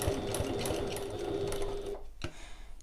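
Sewing machine stitching a fabric seam on a satchel, a steady close mechanical whirr that runs without pause for about two seconds before stopping abruptly.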